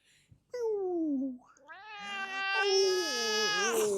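A house cat meows and complains in a long, drawn-out, wavering cry, with a short first call followed by a louder sustained caterwaul that rises and falls close by.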